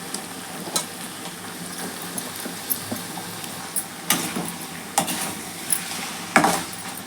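Boneless chicken pieces stirred into a pan of sautéing tomato and small onions, with soft sizzling under repeated sharp scrapes and clinks of a spoon against the pan, some louder strokes near the end.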